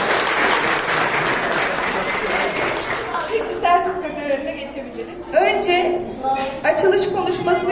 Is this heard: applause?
yes